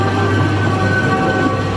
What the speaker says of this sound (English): Some on-ride footage there from the classic ghost train here at Blackpool Pleasure Beach